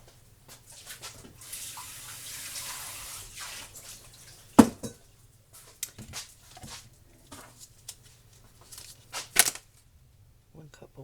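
Water is poured from a measuring cup into a cooking pot, a splashing run early on with a few sharp clanks and knocks afterward, while a person talks nearby.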